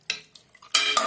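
Chicken sambar gets stirred in a pressure cooker: a couple of brief metallic scrapes, then a louder sustained scraping stroke of spoon against the pot, close by with no voices.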